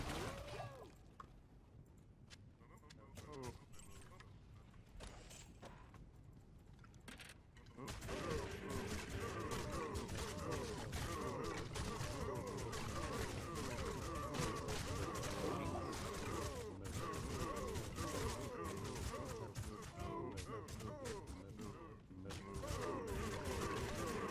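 A corpse explosion chain in Diablo 2 Resurrected: after a quieter stretch, a dense, sustained barrage of bursts, crashes and shattering impacts crackles loudly for most of the scene, with occasional speech mixed in.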